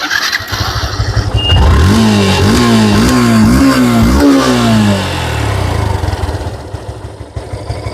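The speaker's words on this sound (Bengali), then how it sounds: "তো দর্শক যদি আপনাদেরকে স্টার্ট করে সাউন্ডটা দেখাই দেখুন" A second-hand Yamaha Fazer version 2 motorcycle starts nearby, catching after a brief crank, then revs in several rising and falling bursts before settling back to a steady idle, loud and close.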